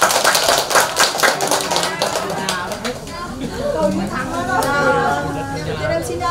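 Audience applause at a Vietnamese ritual performance, crisp and loud at first, then tapering into lighter scattered claps mixed with murmuring voices and background chatter.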